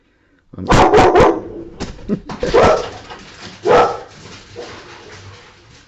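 A dog barks several times in close, loud bursts, two quick barks, then a pause and further barks and yips, with whimpering sounds between them.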